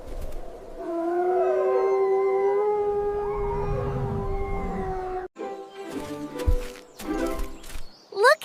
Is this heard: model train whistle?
no